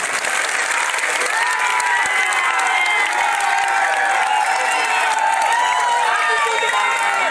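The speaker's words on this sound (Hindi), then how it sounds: "इनके नाम पे जोरदार तालियां आप बजाइए" Loud, dense applause from a large crowd at a political rally for a chairman candidate, continuous clapping mixed with cheering and voices, sustained at full volume throughout.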